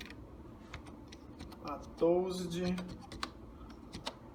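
Keys clatter on a computer keyboard in a series of light, irregular taps, with a voice speaking over part of the typing.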